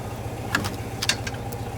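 A diesel tractor engine idles in frost after days without starting, a steady low rumbling chug held throughout, with a few faint clicks and rattles on top.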